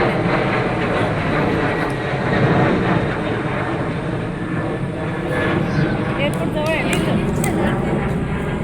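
A loud, steady roar of an airplane engine rumbles overhead, with people talking over it.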